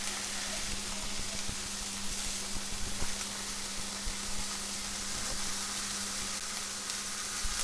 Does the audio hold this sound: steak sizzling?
yes